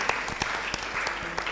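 A small audience at a public health grand rounds breaks into scattered applause, a sparse run of distinct claps spread across the moment rather than a dense ovation.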